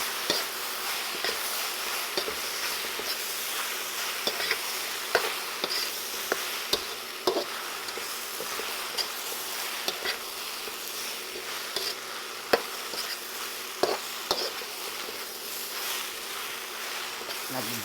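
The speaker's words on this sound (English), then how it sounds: "Mix that all in." Chili being stirred into a pasta sauce in a pan, a steady sizzle broken by regular sharp scrapes and taps of the utensil, with speech over it at times.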